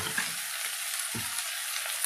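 Ivy gourd stir-fry with salt and turmeric sizzles in a pan as it is stirred, a continuous close frying hiss broken by a couple of brief scraping strokes.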